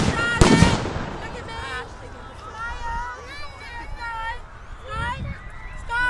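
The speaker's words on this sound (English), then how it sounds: "the whole sky is full of fireworks" Fireworks at an East Hoathly display, a sharp loud bang early on followed by crackling and distant pops, heard under excited crowd chatter and whistles with people talking nearby.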